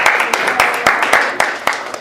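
A handful of meeting attendees clap sparsely for a couple of seconds, with sharp, uneven claps standing out over light room noise.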